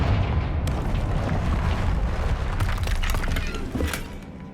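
A Confringo fire spell blasts in Hogwarts Legacy with a loud, sustained crackling roar. It shatters and booms for about four seconds before tailing off slightly.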